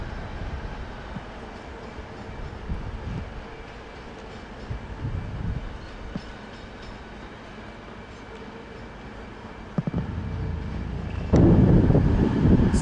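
A train rumbles steadily nearby over wind noise at London St Pancras station, then a louder, heavier roar swells near the end as a train from Sheffield rolls in.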